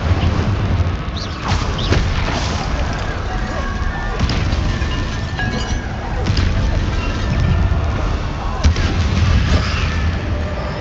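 Incendio and Confringo spells cast in the video game Hogwarts Legacy, a dense run of loud fiery bursts and booming impacts that repeat through the whole stretch, close and continuous, under game effects.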